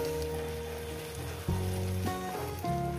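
Rohu fish pieces cooking with potatoes in a pan give off a soft, even sizzle, with background music playing over it and no voices.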